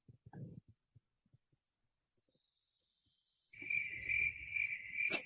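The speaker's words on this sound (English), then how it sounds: "Where's your cricket sound" A cricket chirping sound effect, played during a gaming podcast, comes in after a few quiet beats as steady, loud, rhythmic high chirps over a low throbbing hum.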